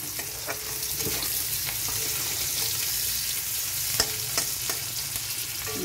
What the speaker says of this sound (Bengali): এবার আমি পেঁয়াজটা দিয়ে দেব। পেঁয়াজ নরম হওয়ার জন্য একটু লবণ দেব, অল্প একটু লবণ দেব।